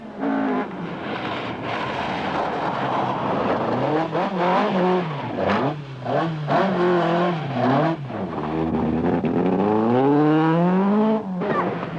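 A 1980s Opel Manta rally car at the 1986 Shell Donegal International Rally, engine revving hard through shifting gears as it slides on a stage, loud and close for the whole stretch, with no voices.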